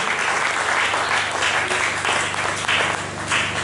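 A congregation applauds during a Sunday church service, with loud, sustained clapping from many hands that fills the room without a break.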